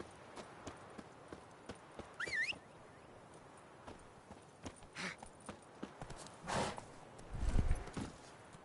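A horse's hooves clip-clop at a steady walking pace in The Witcher video game, faint and quiet under game ambience, with a brief higher call and a couple of louder thumps.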